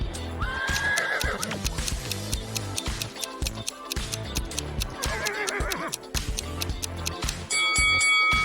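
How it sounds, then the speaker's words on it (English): A horse whinnies twice, with rising and falling squeals heard over dense music and scattered clicking sounds. "And whose horse is this?"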